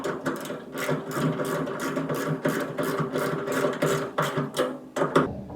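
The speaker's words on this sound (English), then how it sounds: "So let's go ahead and tighten these bolts." Tightening tailgate bolts on a 1988 Ford F-150, a run of quick clicking and whirring tool bursts with brief pauses, close and fairly loud, with no talking.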